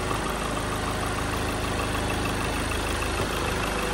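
A 2.2-litre Ford Everest diesel idles steadily up close, a continuous low engine rumble with even mechanical clatter and no voices over it.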